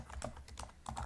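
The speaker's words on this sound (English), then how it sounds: "you can do so by typing this code" Rapid keystrokes on a computer keyboard while SQL code is entered, a quick irregular patter of soft clicks at close range, fairly faint and with no speech.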